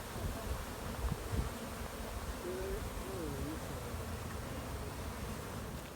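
Honeybees buzzing around a newly set up AZ beehive, a steady close drone of many wings that fills the whole stretch, with a few faint bird-like tones partway through.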